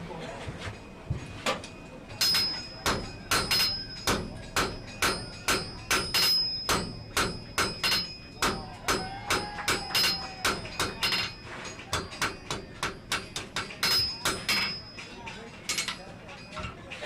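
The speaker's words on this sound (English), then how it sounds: "You're still hammering over." A blacksmith hammers hot steel while forging chain links at a forge, striking in a steady, fairly rapid rhythm of sharp metallic blows, with some ringing, that goes on close by and loud throughout.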